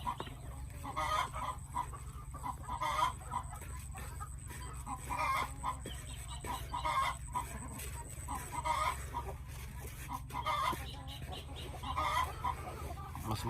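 Layer and grower chickens cluck continuously in a steady flock chorus, with repeated rhythmic bursts over a constant low hum from the poultry house.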